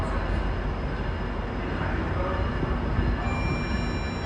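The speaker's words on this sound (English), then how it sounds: "here comes another train pulling in" A passenger train pulls into Union Station with a steady, broad rumble of wheels and engine. A faint high tone sits above the continuous noise.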